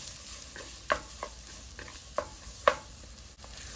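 Onion, garlic and chile fry with chorizo in a pan, a soft steady sizzle broken by several distinct scrapes and taps of a spoon stirring, close and fairly quiet with no talking.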